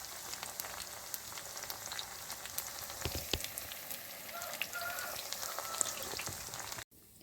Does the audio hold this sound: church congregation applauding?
no